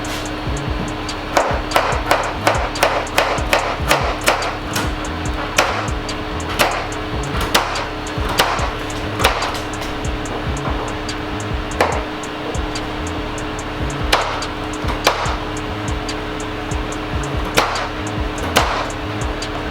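A knife slices fresh okra into small pieces on a cutting board, giving a steady series of sharp, close taps against the board, sometimes in quick runs and sometimes spaced apart, over a low background hum.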